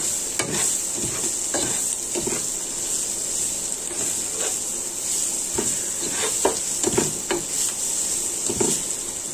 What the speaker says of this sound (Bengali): তেলে শুটকিগুলো ভেজে নিবে একটু।